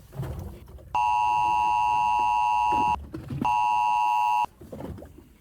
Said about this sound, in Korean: 갑자기 재난 문자가 울렸습니다